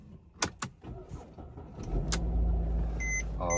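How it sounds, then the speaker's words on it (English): A 2010 Mercedes-Benz E-Class (W207) starts up after a key insertion: a couple of sharp clicks, then the engine catches and settles into a steady, close idle rumble with a faint electronic chime near the end. "and we'll try to start the car."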